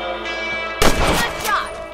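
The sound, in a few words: gunshots shooting rabbits in video game Red Dead Redemption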